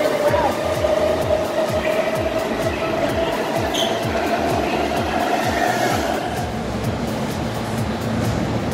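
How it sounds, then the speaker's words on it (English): A loud train rumbles through a station in Japan, with steady clattering wheel thumps in a regular rhythm over a sustained mechanical roar, close and dominant throughout. "And the train's really loud."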